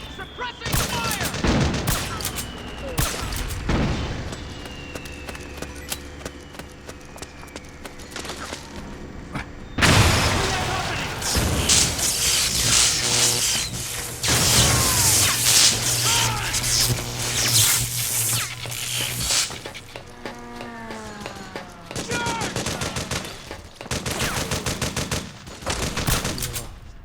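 Gunfire in the Metal Gear Solid 4: Guns of the Patriots battle to destroy a power station facility: bursts of rapid automatic fire and sharp shots come in clusters between lulls, mixed with shouted commands and game effects.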